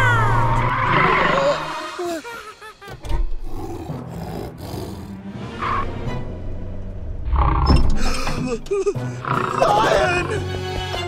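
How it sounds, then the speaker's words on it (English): A cartoon lion's roar in an animated children's show about an animal sanctuary, rough, growling bursts repeated several times over music and other effects, with voices speaking between and over them. "A new lion is coming to the animal sanctuary."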